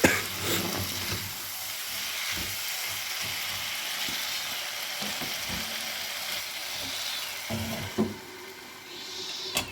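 Meat curry with potato and tomato frying and being stirred in a pan, with steady sizzling throughout and a few scraping clinks of the spoon against the pan near the end.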